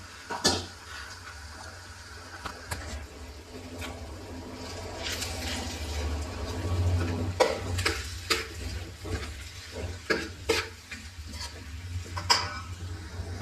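Potato bonda filling with onions and spices is stirred in a pan, a spoon scraping and clacking against the metal in irregular close strokes over a soft background sizzle.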